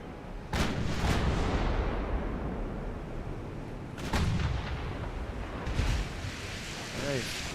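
Battleship main guns firing in Ultimate Admiral Dreadnoughts, several heavy booming salvos with rolling low rumble and sea wash between them, heard under a voice talking.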